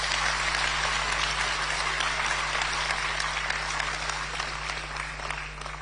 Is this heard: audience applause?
yes